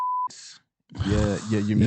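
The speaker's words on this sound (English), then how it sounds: "beep them names out" A short 1 kHz censor beep tone sounds at the start, cut off sharply, followed by a brief pause and then someone talking close to the mic.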